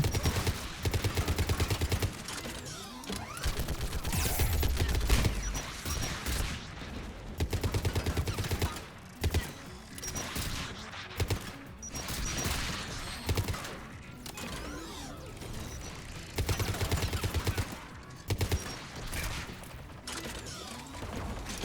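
Anti-aircraft guns fire in a video game, long stretches of rapid, dense automatic shots in repeated bursts with brief pauses, loud and close throughout.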